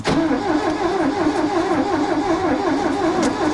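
A Ford Transit with a 1.6 petrol engine, flooded with fuel, cranks and starts on a freezing morning, then runs as a loud steady rhythmic idle close by, with no talk.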